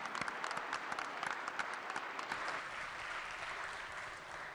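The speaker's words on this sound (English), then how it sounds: "everybody give them a round of applause" Applause in a state legislature chamber, dense clapping from a gathered crowd that is sharp at first and then settles into a steady, fading patter.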